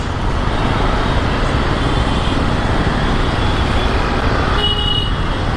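A Suzuki Burgman scooter rides through busy road traffic, its passing lost in a loud, steady wash of engine and tyre noise from surrounding vehicles, with no voices.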